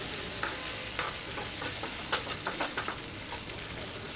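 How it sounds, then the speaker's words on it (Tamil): Garlic chutney sautéed briefly in a pan with a little salt, a softer steady sizzle up close with light scraping and stirring taps scattered through it, no one speaking. "ஒரு 2 நிமிஷம் நம்ம வதக்கினாலே போதும்."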